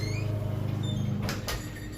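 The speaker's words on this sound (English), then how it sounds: "Let me shut this door." A room door swings shut during guitar restringing at home, with a brief dull thud followed by a short rattle near the end, heard close over a steady low background hum and no talking.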